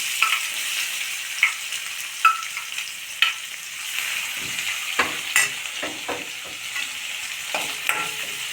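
Chopped capsicum sautéing with curry leaves in a pan gives a steady bright sizzle, close and fairly loud. Spoon scrapes and taps land every second or so, with no talk.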